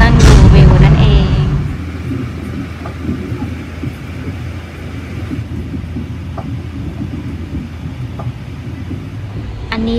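Inside a Boston commuter train, a loud rumble at the start settles into a steady rolling drone of the car on the rails, with a voice talking faintly over it.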